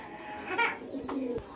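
A fancy pigeon of a sought-after breed gives a short, close coo with soft throaty tones, alone without talk.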